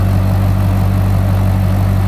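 A supercharged FPV GS Boss 315 engine idles up close, giving a loud, steady low rumble with no break.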